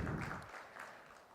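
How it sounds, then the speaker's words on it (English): Applause from the audience at the inaugural session of a bioenergy summit, a brief burst of clapping that is fuller at first and then thins out over a little more than a second, heard at moderate distance in a large hall. "A round of applause,"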